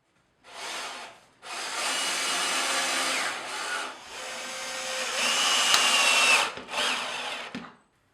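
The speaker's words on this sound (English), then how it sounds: "then securely screw it to the stud" A power drill drives screws through a wooden batten into a wall stud while button-fix panel battens are being installed. Four close, loud bursts of whirring drilling follow one another, with the pitch rising in the later runs and no talk.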